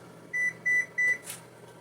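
Three short, evenly spaced electronic beeps from a kitchen timer being set while bone broth is prepared, fairly close and clear over a quiet room.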